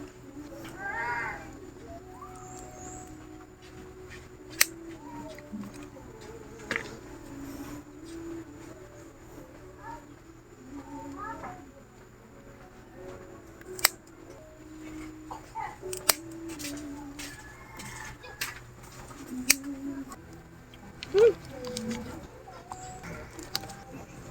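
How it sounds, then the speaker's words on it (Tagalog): Ordinary scissors snip through trailing burro's tail and donkey's tail sedum stems in sparse, faint, crisp clicks, with quiet talking and a soft background hum between the cuts. "Hindi ko makita yung pruning shears ko kaya ito na lang munang gunting."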